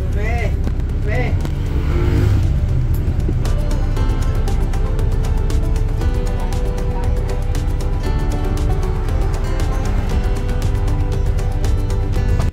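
A bus engine rumbles steadily as the bus pulls away and resumes its trip through Oriental Mindoro. Voices talk over the continuous road and motor noise.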